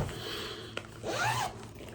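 A zipper slides along a handmade project bag fitted with a charm on the pull, a close, quiet rasping run with a small click partway through, heard alone.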